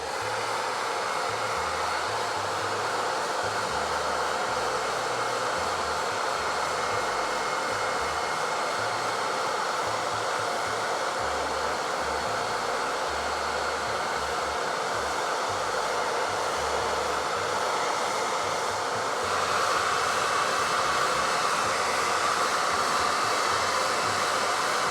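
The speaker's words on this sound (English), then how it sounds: "I'm gonna just hit it with the air dryer, or the blow dryer real quick." A blow dryer runs continuously to dry paint on a miniature figure, a loud steady whooshing hum lasting the whole stretch with a slight shift in pitch near the end and no talking.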